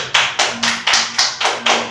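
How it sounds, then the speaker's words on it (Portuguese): The congregation claps in unison at a church service, with sharp rhythmic beats about every third of a second, close and fairly loud, and no voices. "Você pode aplaudir ao Senhor?"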